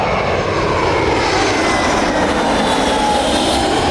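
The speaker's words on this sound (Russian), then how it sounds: "О, самолет садится." An airplane comes in to land over Buenos Aires, its engine roar loud, steady and close, with a gradually shifting pitch as it passes overhead.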